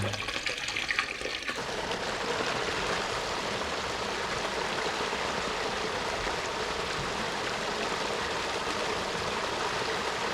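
Water from the Verde River hot spring pool drains steadily through a corner hole, a constant close rushing gurgle after a brief louder splash at the start, with no voices.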